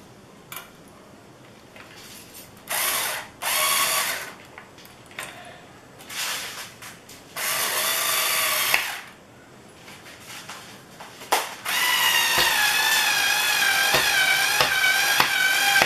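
A power drill drives screws into a wooden sawhorse, heard as several short whirring bursts separated by pauses and handling clatter, then a longer, louder drilling run near the end, all close by.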